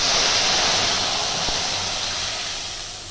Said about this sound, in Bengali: দিয়ে দেবো দুধ, 1 কাপ দুধ নিয়েছি।